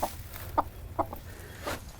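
A hen settling back onto a clutch of eggs gives a few soft, short clucks spaced about half a second apart, fairly quiet over low background rumble.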